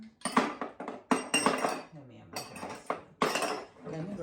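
Utensils clinking as a measuring spoon is grabbed for a Caribbean black cake, with several bursts of metal and dish clatter close by, mixed with a person talking.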